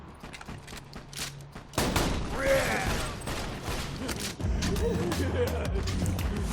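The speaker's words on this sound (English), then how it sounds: "Great thing about this weapon, it fires as fast as you can pull the trigger" A weapon in the video game Borderlands 2 fires a dense, rapid run of shots, layered with other game effects and voices, loud and continuous throughout.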